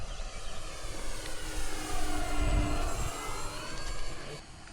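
A model twin-engine airplane drones steadily overhead at a flying field, its buzzing engine note swelling slightly as it passes, with faint wind in the background.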